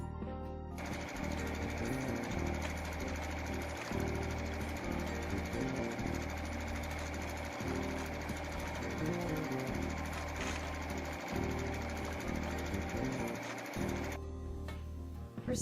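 A computerized embroidery machine stitches a quilt block design, a fast steady mechanical chatter with rhythmic needle clatter that runs continuously for about fourteen seconds before stopping abruptly, with no voices.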